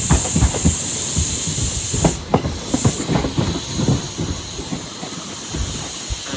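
A ScotRail train set rolls past with a loud steady hiss and irregular clanking wheel knocks over the rails, close and continuous.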